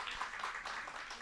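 Audience applause for school students walking up to present at a school admissions information session, a faint, steady patter of clapping from a small room with no voices over it.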